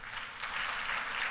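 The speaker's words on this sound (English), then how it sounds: "give our panelists a round of applause" An audience at a renewable energy conference and expo applauds its panelists at the end of a session, a steady wash of clapping heard from a moderate distance.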